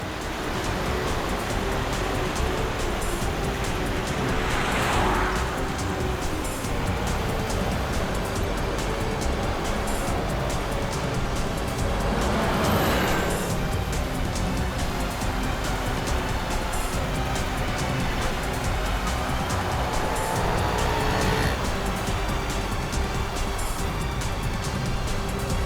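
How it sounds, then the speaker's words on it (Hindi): A car follows Shilpa in a chase, its engine a continuous road roar with broadband rushing noise and occasional swells of passing traffic, steady and fairly loud throughout. "ये गाड़ी भी शिल्पा का पीछा कर रही है।"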